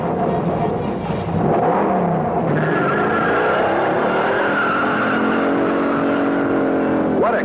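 A 1969 Dodge Charger 500 with a 426 Hemi and TorqueFlight automatic launches hard. Tires squeal and the engine roars loud and close, rising steadily as it pulls away, with a final sharp squeal near the end.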